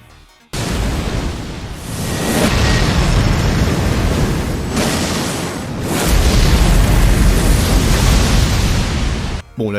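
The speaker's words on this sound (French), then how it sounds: "C'est quand il crache du feu 2 fois de manière spectaculaire" Bayle the dragon boss in Elden Ring breathing fire in a video game, a sudden loud sustained roaring blast that surges twice before cutting off sharply.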